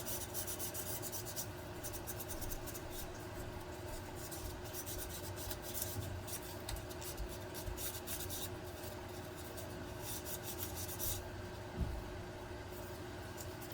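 Continuous sandpaper rubbing on the metal pins of a Nintendo NES 72-pin cartridge connector, a steady close scratchy rasp that runs throughout with no talking.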